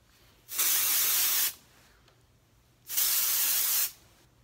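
An aerosol hairspray can sprays onto hair in two long bursts of about a second each, each a loud close hiss, separated by quiet pauses.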